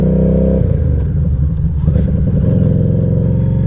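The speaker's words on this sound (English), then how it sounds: "Thought I heard a motorcycle." A loud, close motorcycle engine rumbles steadily throughout, its throaty tone shifting slightly in pitch with some rattling, as if it is passing nearby.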